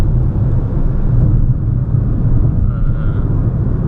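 Peugeot 2008 Allure 1.2 PureTech 129 hp petrol engine driven in sports mode, a steady loud low rumble of engine and road noise sustained throughout with no pauses.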